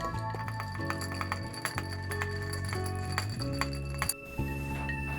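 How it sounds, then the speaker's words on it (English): A spoon or bar tool clinks against a glass while a Long Island Iced Tea in its 1920s version is stirred, a series of bright close tinkling rings over a faint tonal background, with no voices. "We'll just give that a stir and a taste."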